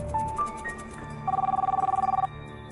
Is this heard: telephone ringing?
yes